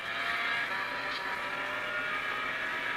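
Racing-game car engine from a mobile game on a Nomu S20 phone, a steady loud drone with a brief tyre-squeal-like accent, no talking.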